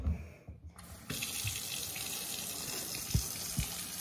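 Tap water runs steadily into a bottle, a constant close hiss that starts after a brief pause, with a couple of soft knocks, while getting ready for football.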